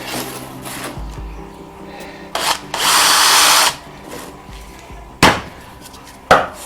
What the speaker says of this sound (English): I'm just going to countersink the other side as well quickly